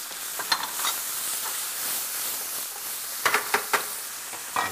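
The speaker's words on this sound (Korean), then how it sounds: "이제 달달 볶으면 그 향이 날 때까지 볶아주시다가" Garlic and scallion sizzle steadily in a hot wok, with a constant frying hiss and several sharp clanks of a utensil stirring, especially near the end.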